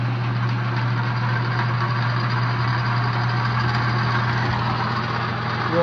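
Logan 2557 metal lathe running in back gear as its variable speed is cranked up, a steady mechanical hum and whir with a constant low drone, loud and even throughout, with no talking.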